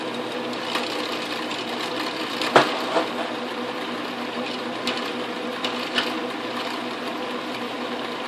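An Atlas/Craftsman metal lathe takes a 1/8 inch cutting pass, giving a steady close mechanical whir with a few brief clicks and knocks along the way and no talking.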